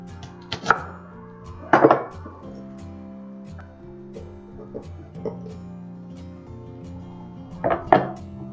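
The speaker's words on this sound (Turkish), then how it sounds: "İnce ince keselim dolduracağımız için." A knife slices vegetables thinly on a cutting board while stuffed eggplant pickles are prepared. Three short bursts of close, crisp cuts are spread apart, with a low steady hum between them.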